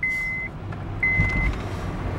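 A car's beeping chime, probably a seatbelt warning, sounds twice as steady tones, each roughly half a second long, over a low engine hum while driving on home-made DIY brake pads.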